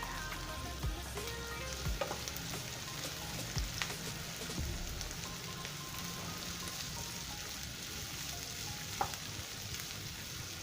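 Green chillies frying in oil in a pan for a Kerala-style bitter gourd stir fry, a soft steady sizzle with occasional crackles and pops, close and quiet, no voices.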